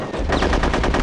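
Rapid machine gun fire from a shooter video game, a loud, dense burst of evenly spaced shots heard alone, close and continuous.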